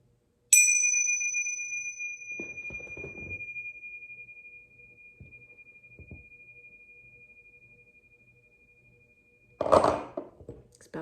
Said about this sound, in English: Bells, long bells.